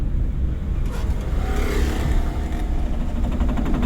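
A driving school car running in second gear after a shift, with a steady, fairly loud engine rumble and road noise inside the cabin, unbroken and without talk.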